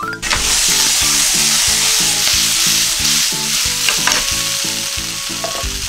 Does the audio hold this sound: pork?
yes